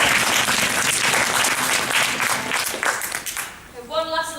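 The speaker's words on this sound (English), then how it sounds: "Give them another round of applause." A convention audience at a Portal 2 play session claps in dense, steady applause that fades near the end as a voice starts up.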